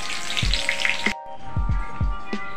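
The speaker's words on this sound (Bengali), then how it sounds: "পটলগুলোকে আমি এপিট ওপিট করে ভেজে নেব" Pieces of pointed gourd (potol) fry in hot oil for a vegetarian dish, a bright bubbling sizzle that cuts off abruptly just past one second, then resumes with soft thumps and popping, close by without talk.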